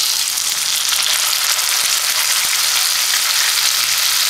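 Chopped tomato fries in a pan for tomato rasam, giving a loud, dense, continuous sizzle close up with faint stirring clicks and no voices.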